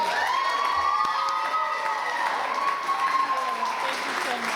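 A crowd at a women's distinction awards ceremony applauds and cheers for an honoree, loud sustained clapping mixed with whoops and raised voices that fill the room at full level throughout.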